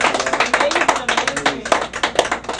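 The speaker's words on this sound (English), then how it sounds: "we give a round of applause for them" A small studio audience claps through a round of applause for the hosts of a live in-studio session, with scattered individual hand claps rather than a dense roar and voices murmuring underneath.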